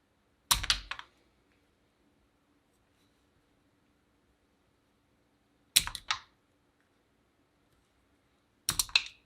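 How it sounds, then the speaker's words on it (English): Scissors snip material into small macaroni-length pieces for fake pasta in three short, crisp bursts of quick clipping, spaced several seconds apart against near silence. "So I'm just going to cut this into little pieces that are about the length of macaroni noodles."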